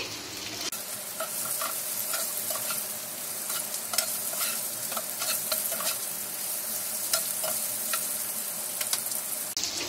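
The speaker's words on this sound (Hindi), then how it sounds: "हमें इन्हें मीडियम गैस पर दो से तीन मिनट तक पकाना है" Bottle gourd kebabs fry in a little oil over a medium gas flame with a dense, steady sizzle. Frequent crisp stirring ticks and pops sit close and clear for the whole stretch, with no speech.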